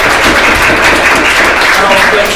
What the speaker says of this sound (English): Big round of applause for Nadeem.